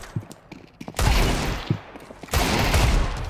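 Gunfire in the video game Counter-Strike: short bursts of rapid shots with a sharp crack around one second and another sustained burst near the end, loud and close with no talk.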